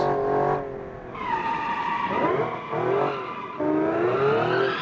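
A Honda truck oversteering in the BeamNG driving game, engine droning with rising and falling pitch as the tires squeal and skid through a corner, loud and continuous.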